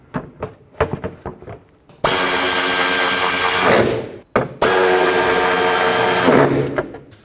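A power tool runs in two loud, close bursts of about two seconds each while fastening a shield back onto a 1999-2003 Toyota Solara. Light clanks and taps come before the bursts and in the short gap between them.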